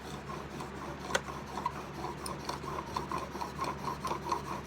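A steel chisel rasps back and forth on a cheap sharpening stone in quick, repeated gritty strokes, faint and close, with no voices.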